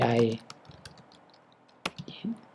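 Typing on a computer keyboard in a CentOS 8 terminal: someone speaks briefly, then sparse, faint key clicks follow at an irregular pace.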